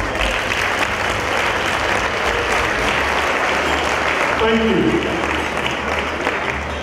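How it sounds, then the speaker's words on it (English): Loud, sustained applause fills a room at a large reunion gathering, continuous from start to finish, while a voice briefly speaks under the clapping partway through. "Please give them a round of applause."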